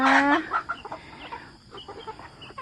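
Chickens cluck on a small farm, a few short, fairly close calls opening loudly and then trailing into softer scattered clucks and farmyard noise, with no one talking.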